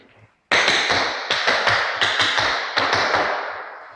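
Tap shoes strike a hard floor in a quick shuffle step moving backward, a crisp series of about ten clear taps in uneven clusters, close and loud with no talk.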